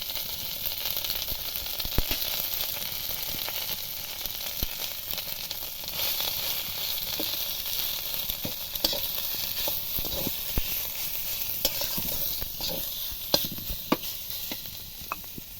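Boiled taro flower parts sizzle steadily in a hot pan with cumin and ginger paste, a dense continuous hiss broken by scattered clicks and scrapes.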